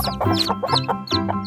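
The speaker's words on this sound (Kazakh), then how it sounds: "Дана қораз." A rooster in a Kazakh cartoon gives repeated short, loud clucking calls in quick succession, close up and without talk, with a brief crowing flourish mixed in.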